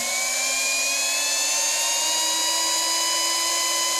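A brushed modified 19-turn RC motor on an Eagle Racing MD1-V2 dyno whines at about 20,000 RPM, a loud, steady high-pitched tone that climbs slightly in pitch throughout, close and without talk.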